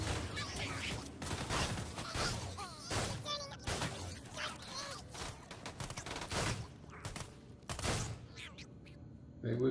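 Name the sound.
Sledge's shotgun firing in video game Borderlands 2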